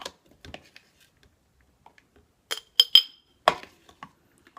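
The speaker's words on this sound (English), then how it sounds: "we're just adding this into the container, into a clean, empty jar, glass jar." Chopped garlic dropped into a clean, empty glass jar gives a few light glassy clinks and taps, sparse and close, with quiet gaps between them.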